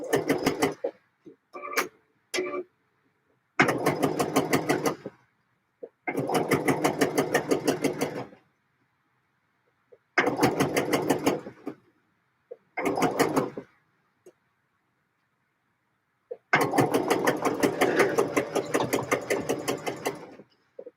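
A sewing machine stitches skirt fabric in several bursts of rapid, even mechanical clatter, separated by short silent pauses, close and clear with no voices.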